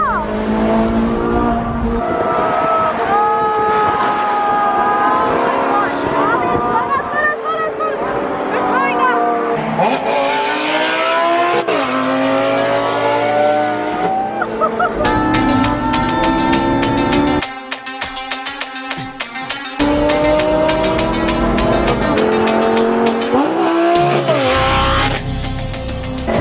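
Porsche cars drive fast nearby, engines roaring and tires squealing and skidding in sustained loud bursts, with voices talking over the noise throughout.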